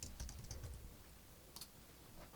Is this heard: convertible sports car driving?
no